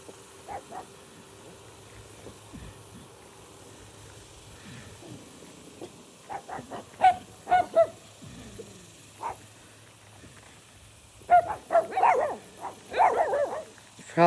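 Several dogs bark at a deer outdoors, scattered yips and woofs at first, then louder clustered bursts of barking near the end, with faint background hum.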